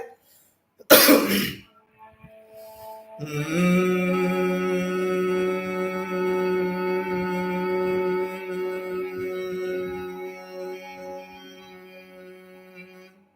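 One sharp cough and throat clear bursts out during a quiet meditation session, followed by a long, steady sustained chanted tone that fades slowly.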